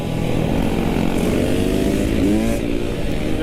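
A KTM 300 dirt bike with a hydraulic clutch revs continuously nearby, its raspy engine note rising and falling slightly over a loud, steady drone.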